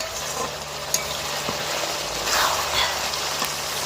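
Meat and garlic fry in a pan over a clay stove while being stirred, giving a steady, close sizzle with occasional scraping clicks, and no voices.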